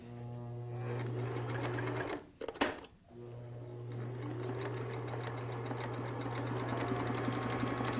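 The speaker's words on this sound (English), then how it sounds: "I start with a zigzag stitch, and I'm going to zigzag it just to prevent it from fraying later." A sewing machine zigzag-stitches along a fabric edge to stop fraying while making a cap. The motor whirs steadily and close, pauses briefly around the two-to-three-second mark with a small clunk, then resumes and runs on.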